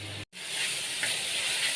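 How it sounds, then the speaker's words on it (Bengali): Spice paste mixed with water hits a hot pan with a short cut-out and then a steady, loud hiss and sizzle of frying that carries on close by with no talking. "এবার এই মশলা গোলা জল সহ দিয়ে দেবো, দিয়ে এটা কষিয়ে নেব।"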